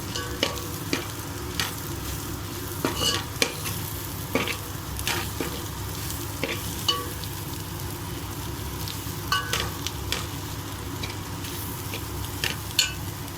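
Cooked rice for egg fried rice sizzles steadily in a hot pan while a spoon stirs and scrapes it, with irregular clinks over the constant frying hiss.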